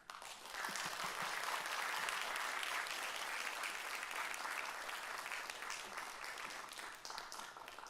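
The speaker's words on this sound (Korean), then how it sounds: "박수해 주시고 웰컴해 주십시오" An audience at a women's worship service applauding to welcome a visiting professor to the podium, sustained clapping from a full room rising quickly and holding steady for several seconds.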